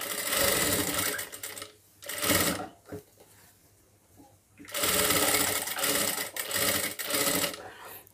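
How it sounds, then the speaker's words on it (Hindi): A sewing machine stitches a blouse in loud bursts separated by short pauses, with fabric handling in the quieter gaps and no one talking. "इस पर लगाता हूँ मैं सिलाई ये देखिए इस प्रकार"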